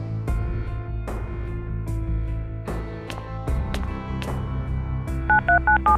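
A telephone is dialed with a quick run of short electronic keypad beeps near the end, heard over a dense, steady background score.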